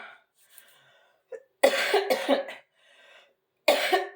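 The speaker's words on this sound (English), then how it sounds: "I'm sorry, I'm still coughing a little bit" A person coughs in two harsh bursts a couple of seconds apart, each a cluster of rough hacks, with quiet breathing in between.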